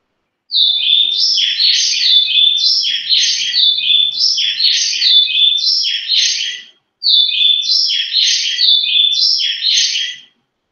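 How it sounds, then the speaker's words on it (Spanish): A male bird's song played twice, a quick repeated series of high, clear chirping phrases in a steady rhythm, loud and close, with a brief silent gap between the two plays. "el canto del macho es más parecido, entonces va a sonar como una repetición"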